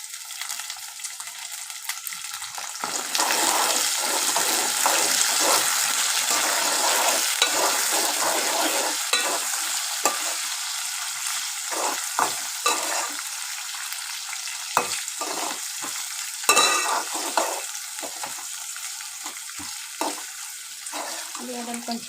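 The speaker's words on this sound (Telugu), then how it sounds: "ఉల్లిగడ్డ, పచ్చిమిర్చి ఎర్రగా వేగిపోవాలి." Onions and green chillies fry and get stirred in a pan while mutton curry is being made, giving a continuous close sizzle broken by scraping stirs, with no one speaking.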